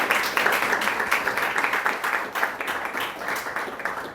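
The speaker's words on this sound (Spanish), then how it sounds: "Entonces, un fuerte aplauso para el profe." An audience at a university philosophy lecture applauds the professor, with moderate, even clapping from a modest crowd that holds steady for about four seconds.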